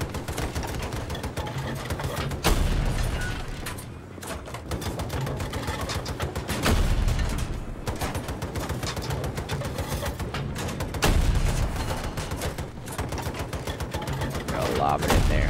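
An LMG fires in Battlefield 2042 in dense, rapid bursts of automatic fire, loud and close, with brief pauses between volleys and a voice talking now and then underneath.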